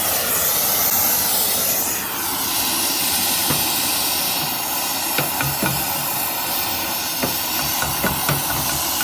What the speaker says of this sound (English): Now we'll braze.